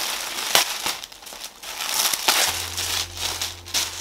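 A large yellow padded envelope holding a book is torn open and unwrapped up close, with loud crinkling, crushing and ripping in uneven bursts and a brief low hum partway through.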